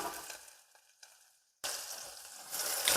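Garlic frying in oil in a pan, a soft sizzle that briefly drops to near silence and then returns as a louder, close hiss that swells toward the end.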